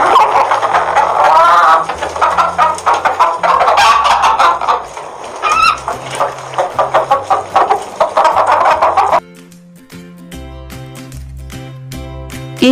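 Cartoon hens cluck in an animated jungle story, a busy run of repeated clucks over layered background music, then the clucking drops away leaving quieter music.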